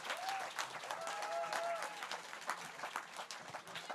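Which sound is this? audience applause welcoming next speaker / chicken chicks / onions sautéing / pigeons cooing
audience applause welcoming next speaker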